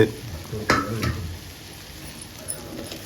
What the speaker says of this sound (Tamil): நல்லா கீழே இருந்து ஒரு திருப்பு, மேலேருந்து ஒரு திருப்பு, நல்லா முழுக்க திருப்பிக்கலாங்க